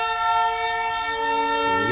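Darjeeling toy train with a steady, sustained horn-like tone held across two seconds over a low mechanical rumble that rises toward the end.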